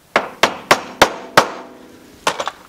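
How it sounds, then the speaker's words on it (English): Hammer tapping a fastener in during a thermostat replacement on an NC Mazda Miata: five sharp, evenly spaced metallic strikes, then a quick cluster of three lighter taps, close and loud with no talking. "you're gonna hear a hammering sound"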